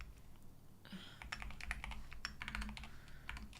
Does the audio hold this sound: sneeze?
no